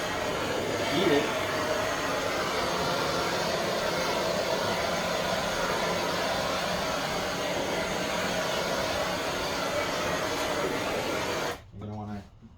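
Heat gun blowing hot air onto a Mini Cooper car window, a steady loud whooshing hiss held for about eleven seconds before cutting off abruptly, with faint talk nearby.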